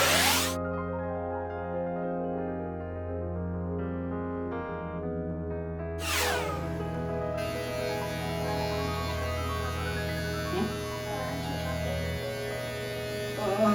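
A steady electric hum of a hair dryer running throughout, with a brief whoosh as it starts and some shifting in pitch midway.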